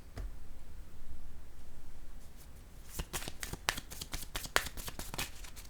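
Tarot cards riffled and shuffled by hand, a quiet stretch giving way to a series of sharp, close flicking snaps and taps in uneven bursts.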